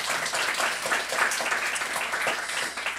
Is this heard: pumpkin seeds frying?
no